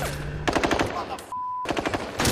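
Gunfire from the crime film The Departed: rapid bursts of loud, close shots in quick volleys, broken by a brief pause with a thin tone before another burst of shots resumes.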